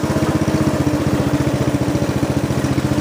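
A Snapper riding mower's engine runs steadily with a fast, even rhythmic chug, loud and close throughout with no talking.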